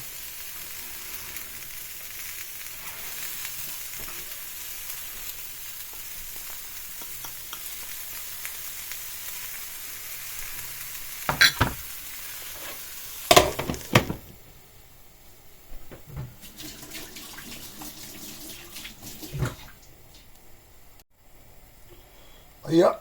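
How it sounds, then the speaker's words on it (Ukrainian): A pizza cooks in a frying pan as its cheese melts and chopped parsley, dill and green onion are scattered over it. A soft, steady sizzle runs throughout, broken by a few louder clatters and handling bursts near the middle. "Сир почав плавитися і я висипаю смісь зелені."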